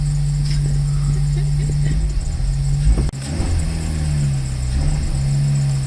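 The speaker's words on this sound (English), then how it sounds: "I'm just blipping the throttle with my toes right now" A Toyota Celica GT-S engine with a polyurethane front motor mount insert runs steadily close by, its throttle blipped lightly with one brief dip in the drone partway through, heard inside the car with faint talk.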